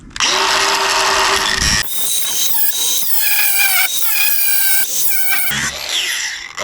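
A power tool bites into the deck of an old yacht, a loud screaming drill-like whine with shifting squealing pitch that cuts out briefly and restarts, running close and continuous with no talk.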